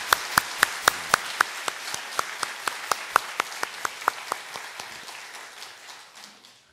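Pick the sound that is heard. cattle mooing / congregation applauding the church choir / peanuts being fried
congregation applauding the church choir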